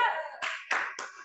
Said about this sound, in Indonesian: kita tepuk semangat yuk